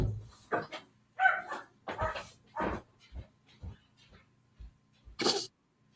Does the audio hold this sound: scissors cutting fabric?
no